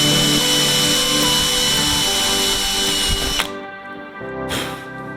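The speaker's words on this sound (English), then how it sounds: "Right now I just want to drill through my firewall here with a 3/32 in the right spot." Power drill with a 3/32 bit boring through an aircraft firewall on a Sonex kit build, loud whining motor that drops out abruptly, then spins up again briefly.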